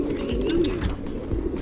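Racing pigeons at a high-flying pigeon race, with a low, soft coo rising briefly out of dense, close, rustling bird noise over a moment and a half.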